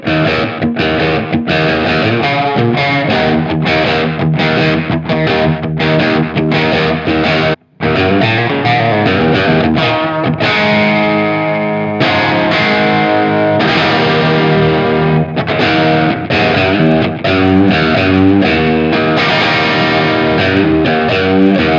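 Grungy, distorted electric guitar through channel 2 of a Trio preamp with the gain up plays loud, sustained chords and riffs almost without a break, dropping out only for one brief moment.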